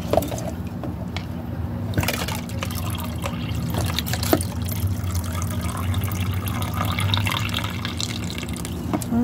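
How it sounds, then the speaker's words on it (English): Rainwater pours and drips steadily nearby, a continuous splashing wash with small irregular drips layered over it and no voices. "That lovely rainwater."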